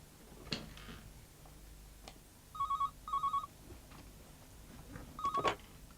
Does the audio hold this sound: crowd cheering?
no